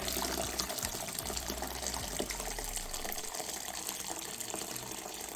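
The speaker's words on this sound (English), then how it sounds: "Second round of hot water." Hot water pours steadily into a container around a dollar-store taper candle, a soft, continuous gushing splash, fairly quiet and close, with no talking.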